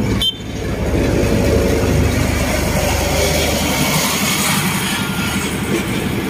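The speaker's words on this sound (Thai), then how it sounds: "รถเข้าสถานีมหาชัยนะครับ" A diesel railcar train rumbles into Mahachai station in Thailand, with a loud, steady rolling roar of wheels and engine over several seconds and faint rail clatter throughout.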